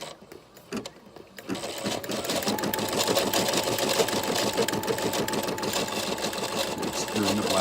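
A Brother SE400 embroidery machine starts up and stitches steadily, its rapid mechanical needle chatter loud and close in an even, continuous rhythm, with faint talk underneath.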